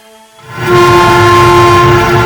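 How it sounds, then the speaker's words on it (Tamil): A train rumbles in loudly as a steady, sustained horn blares over the clatter, rising from quiet to a full, close roar. "அப்போ தூரத்தில் ரயில் வர சத்தம் கேட்டது"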